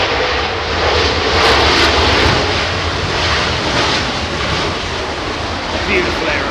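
A fixed-wing airliner lands at London Heathrow Airport on a windy day, its engine roar steady and loud throughout, with broadband wind rush and a voice faintly under the noise.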